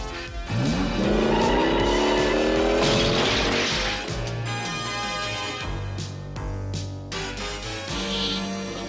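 A cartoon race car revs hard and speeds away, tires squealing loudly as the engine climbs, followed by further screeches and motor roar close up and continuous.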